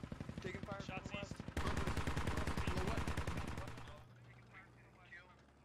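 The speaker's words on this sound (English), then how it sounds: "Taking fire. Shots east." Gunfire in the video game Squad: rapid automatic bursts crackle loudly and continuously, then drop away to scattered, more distant shots.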